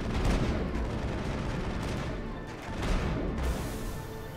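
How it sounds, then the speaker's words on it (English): Enemy gunfire in Mass Effect rattles in dense, continuous bursts at middling loudness, with a brief lull partway through before it resumes. "They're shooting at stuff a long way away, but it can see me."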